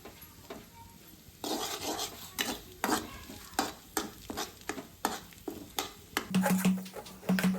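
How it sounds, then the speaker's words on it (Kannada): Garlic and chilli frying in ghee in a pan for pasta, a steady sizzle broken by repeated scraping strokes of a spatula stirring, close and clear with no talk. "ಈಗ ತುಪ್ಪ ಹಾಕಿ ಸ್ವಲ್ಪ ಗಾರ್ಲಿಕ್ ಮತ್ತು ಚಿಲ್ಲಿ ಫ್ಲೇಕ್ಸ್ ಇಲ್ಲ, ಅದಕ್ಕೆ ಚಿಲ್ಲಿ ಹಾಕ್ತಾಯಿದ್ದೀನಿ"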